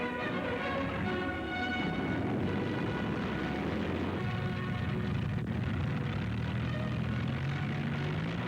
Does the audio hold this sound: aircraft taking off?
yes